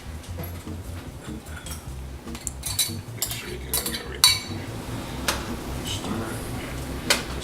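A spoon stirring meat bits back into a simmering pot, with clinks and scrapes against the pot that come in irregular bursts, close by under faint background noise, without any talking.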